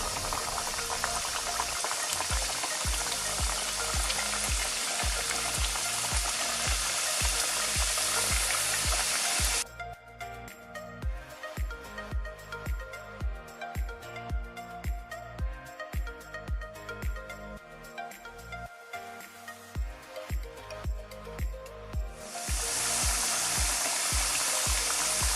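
Papri dough pieces frying slowly in oil over medium heat for papri chaat, a dense continuous sizzle and bubbling that drops to a quieter crackle midway before the full hiss returns.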